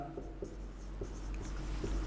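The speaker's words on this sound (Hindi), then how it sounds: "क्वेश्चन लिखते हैं अपन" Chalk or marker strokes on a classroom board while a teacher writes out an atomic-structure physics question, a steady run of short scratchy strokes close by, with no talk.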